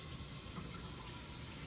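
Tap water steadily pouring into a 9-cup cooking pot in a home kitchen, a continuous broadband rushing hiss at moderate level with no talk over it.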